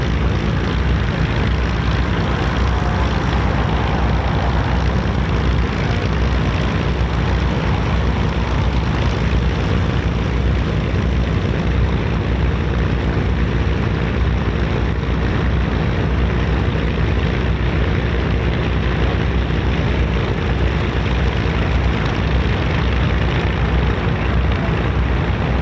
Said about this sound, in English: Spitfire's just starting up